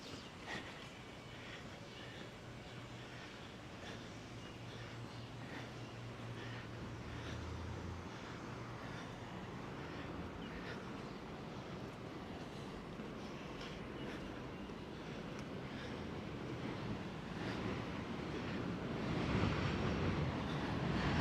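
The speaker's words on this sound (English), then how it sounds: "By the way, that's a D train." A continuous low rumble and rattle of an elevated D subway train passing overhead in southern Brooklyn, New York, swelling gradually louder toward the end with a metallic roar.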